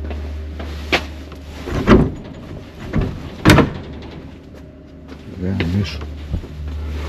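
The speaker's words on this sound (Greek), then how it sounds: "Ανοίγει η πόρτα." A monastery door opens and shuts in a series of knocks, thumps and rattles, several sharp impacts spaced unevenly, close and fairly loud, with quieter shuffling between them.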